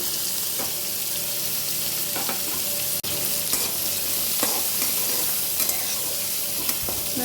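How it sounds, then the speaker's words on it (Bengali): Cut sweet pumpkin pieces fry in a pan for a bitter gourd and pumpkin dish, with a steady close sizzle and occasional soft clicks as they are stirred. "তারপরে এখানে মিষ্টি কুমড়োগুলো, কেটে রাখা মিষ্টি কুমড়োগুলো দিয়ে দিলাম।"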